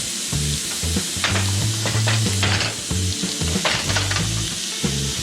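Fish fries in a little oil in a pan, giving a continuous close sizzle with faint crackles throughout, steady and moderately loud with no talking.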